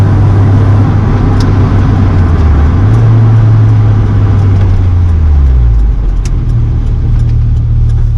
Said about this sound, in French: On fait juste une accélération quand on sort du rond-point.